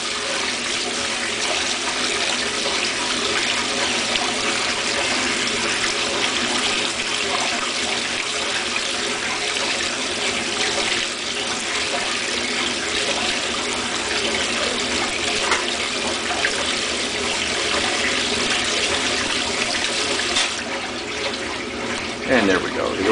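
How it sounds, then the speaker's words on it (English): Rinse water from a 1958 Dominion Automatic Maiden Wash washing machine, a steady, loud broadband rush of pouring and churning water throughout, with a slight shift near the end. "We're getting a pretty thorough rinse here going."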